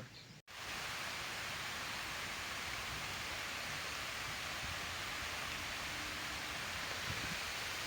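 Rain falls as a soft, even hiss and patter, faint and steady throughout after a brief break near the start.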